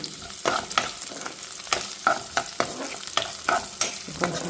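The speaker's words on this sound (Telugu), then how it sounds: "మంచిగా వేగాలి కొంచెం పచ్చివాసం పోయి కలర్ మారే వరకు వేగాలన్నమాట" Onion and green chillies fry in a pan, a soft sizzle broken by regular scraping strokes of a spoon stirring, close and fairly quiet with no talking.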